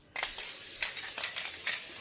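A sustained aerosol hiss from a cooking spray can, starting abruptly and continuing steadily with a few brief surges in intensity.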